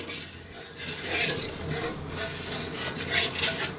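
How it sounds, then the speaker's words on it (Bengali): Spice mix of dry chili powder, turmeric, cumin paste and salt being stirred in a pan for koi fish milk kalia, a steady rough scraping and rubbing that continues without pause, fairly close. "একটু শুকনো মরিচের গুঁড়ো, হলুদের গুঁড়ো, জিরা বাটা, পরিমাণ মতো লবণ দিয়ে একটু নেড়ে চেড়ে নেব।"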